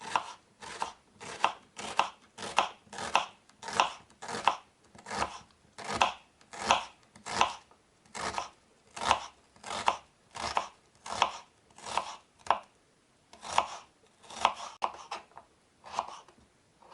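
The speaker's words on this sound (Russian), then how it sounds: "режу лук" Steady rhythmic knife chops slicing an onion into rings on a cutting board, around twenty-five even strokes at a relaxed pace, close and clear with no talking.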